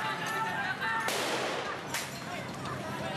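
Firecrackers burst during a neighborhood street brawl in Manggarai, Jakarta, two sharp loud cracks over a dense background of crowd noise and commotion.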